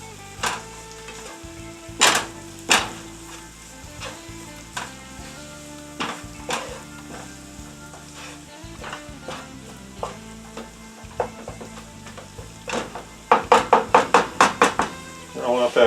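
Flour and dried beef brown in butter in a pan for gravy, with intermittent scraping and knocking of a utensil stirring the mix, a soft sizzle underneath, and a quick run of taps near the end; a voice talks throughout.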